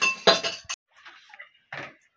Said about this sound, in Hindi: ये बोतल भी यहाँ से उठा लेती